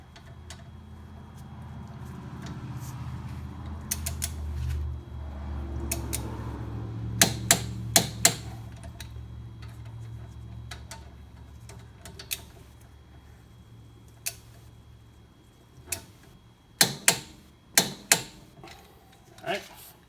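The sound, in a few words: torque wrench tightening Porsche Boxster rotor bolts, clicking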